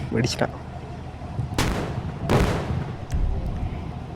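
Gunshots ring out in the Indian Bike Driving 3D video game, several sharp loud reports spaced irregularly, each with a short echoing tail, over a low background.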